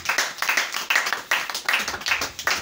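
Rhythmic clapping from a congregation during a church service, bursts of hand claps in a steady beat, fairly close and loud, with no speech over it.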